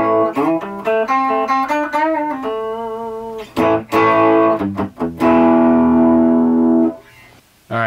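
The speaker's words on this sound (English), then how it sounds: "some kind of metalish tones out of this metalish guitar" Distorted lead lines on a Pango Music Explorer kit electric guitar, with quick picked notes, bends and a long sustained metal-style phrase that rings out before fading near the end.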